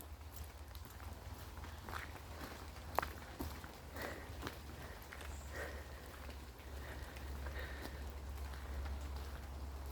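Rain patters steadily on a nature reserve path, a faint continuous hiss with scattered soft drops and occasional footstep-like taps over a low rumble.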